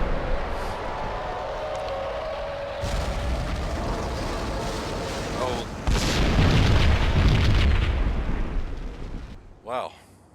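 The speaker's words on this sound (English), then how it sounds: "Another bomb exploded inside the closest slum building." A bomb detonates inside a slum building in the Max Payne video game, a heavy rumbling boom that swells loudly near the middle and rolls on, followed by a sharp final burst as it fades.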